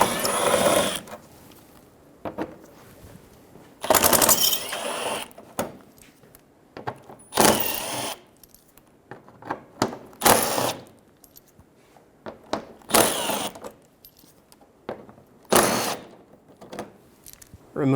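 Screws being removed from a 2000-2007 Ford Focus bumper with a tool: several bursts of whirring, ratcheting noise separated by quiet gaps, close by.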